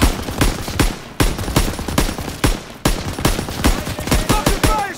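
Machine-gun fire in the Call of Duty: WW2 Hill 493 mission on Xbox One, with loud close bursts and sharp repeated shots in an irregular, rapid rhythm and a few gaps between volleys.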